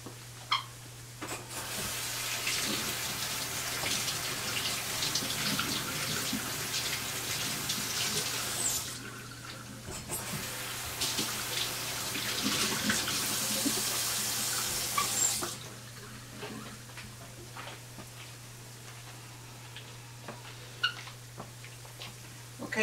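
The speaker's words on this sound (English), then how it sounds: "Let me rinse my hands." Tap water runs steadily into a kitchen sink as hands are rinsed, a broad hissing splash that pauses briefly midway and then drops to a quieter trickle, heard alone close up.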